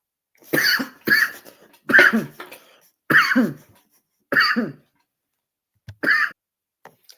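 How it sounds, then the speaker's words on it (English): A series of six sharp, harsh coughs, spaced unevenly over several seconds, loud and close with silence between bursts. "I just had to cough up half my lung"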